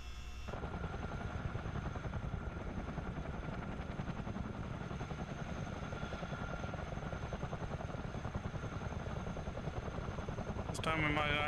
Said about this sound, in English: these would probably be the two helicopters I fly most in the sim